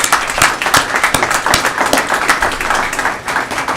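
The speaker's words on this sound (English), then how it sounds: "Give her a round of applause." A school board meeting audience bursts into close, loud applause for a Teacher of the Year finalist, with brisk, dense clapping that continues without pause.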